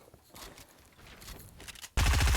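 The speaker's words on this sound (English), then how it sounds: "yeah, I can shoot" Gunfire in Fortnite Creative on a box fight map, a soft patter of shots building up, then a sudden loud burst of rapid automatic fire close by at the end.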